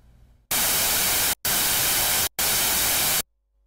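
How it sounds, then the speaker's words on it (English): Pitchless white noise from the Sylenth1 synthesizer's noise oscillator, a loud flat hiss sounding three times for just under a second each, with brief gaps between and silence after. "the last available waveform is noise, which is all the frequencies at the same amplitude"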